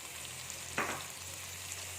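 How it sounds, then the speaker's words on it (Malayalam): Masala with chili powder fries in a pan with a faint, low sizzle and one brief scrape of stirring in the middle, over a quiet steady hum. "ഇനി ഇതൊന്ന് ഫ്രൈ ചെയ്യുക."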